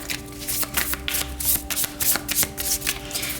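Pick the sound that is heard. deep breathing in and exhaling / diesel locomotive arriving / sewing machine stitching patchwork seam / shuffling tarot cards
shuffling tarot cards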